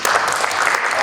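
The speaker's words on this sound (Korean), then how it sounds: "박수 드립니다." Audience applause at the close of a lecture at a medical colon cancer guideline conference, a dense steady wash of many hands clapping throughout, fairly loud and close.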